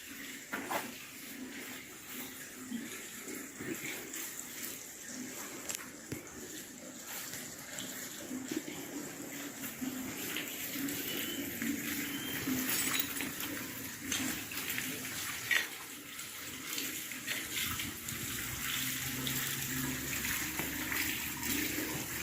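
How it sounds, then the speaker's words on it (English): Water running out of a pipe inside an old brick building with brick ceilings, a steady broadband trickle and gush that holds constant and close throughout, with a low hum beneath it. "There's water coming out of that pipe right there. It's running right down here."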